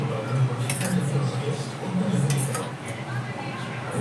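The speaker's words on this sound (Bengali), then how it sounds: "টক দই দিয়ে একবারে এভাবে নেড়ে দিলাম" Rice being stirred in a pot with water, salt and sour yogurt for Odia pakhala bhat, giving soft wet squelches and light clinks of a spoon against the pot, close and steady over four seconds.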